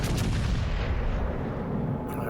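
Warship main guns in World of Warships Legends fire in a heavy, booming salvo, a deep rumbling blast that rolls on and slowly decays, loud and close.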